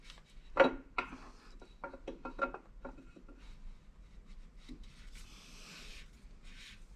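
Camshaft being slid into an LS engine block being built for boost, heard as quiet metallic rubbing and light scraping taps, with a few sharper clicks at first and faint continued rasping afterward.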